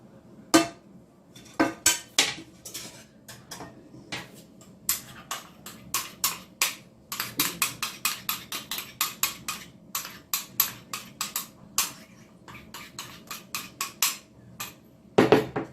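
Repeated metallic clinks and scrapes of a utensil stirring milk and cornstarch in a saucepan, quick irregular strokes going on and off, close and fairly loud.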